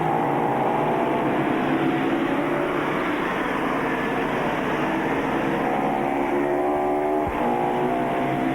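A racing motorcycle pulls away from a pit stop during the 1983 Castrol 6 Hour production race; a loud, steady engine drone fills the whole stretch with no talk over it.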